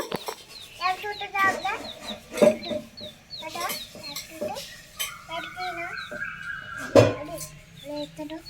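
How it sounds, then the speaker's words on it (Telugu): A young chick chirps repeatedly in short, bright peeps while two children play with it in a village home, the calls coming close and fairly loud over faint background voices. "ఇంకా ఉన్న ఒక్క కోడి పిల్లతోనే పిల్లలిద్దరు ఆడుకుంటున్నారు"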